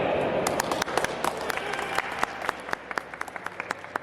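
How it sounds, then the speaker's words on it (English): An audience applauds, dense clapping at first that thins out into scattered individual claps. "Clap for Piccolo."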